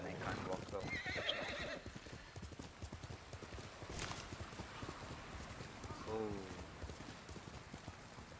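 In the video game Ghost of Tsushima, hooves clip-clop in a quick steady rhythm while a horse whinnies twice, once early and once near the end, with faint background noise.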